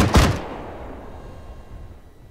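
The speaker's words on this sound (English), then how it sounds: "20mm gun, 10 rounds max." A single boom from a 20mm flak gun in the IFA3 World War II mod for Arma 3, a sharp loud blast at the start that decays into a long fading echo and rumble.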